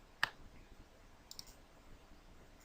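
Two or three sharp mouse clicks on a computer in a quiet room, one near the start and a close pair about a second later, each brief and faint.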